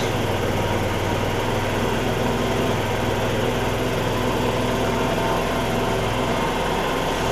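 A Kymco Grandvista scooter that had been sitting a while runs at a steady idle, a close, even, buzzy engine drone with a slight flutter that holds without change throughout.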